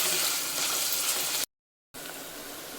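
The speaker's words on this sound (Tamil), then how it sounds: "வெங்காயம் நல்லா வதங்கட்டும் என்னது கோல்டன் ப்ரௌன் கலர் வர மாதிரி வதங்கட்டும்" Sliced onions sauté in a pan for prawn biryani, cooking toward golden brown, with a steady, bright frying hiss that cuts out abruptly for a moment and then resumes.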